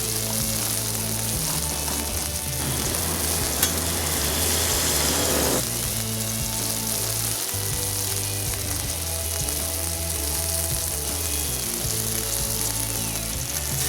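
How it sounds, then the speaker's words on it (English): Steady, crackling sizzle of burger patties frying in a hot pan, a dense hiss that continues without pause throughout, with a low hum beneath. "Listen to that sizzle."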